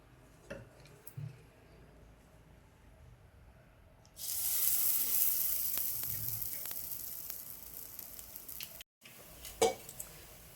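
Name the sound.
mung dal and green pea batter sizzling in oiled appe pan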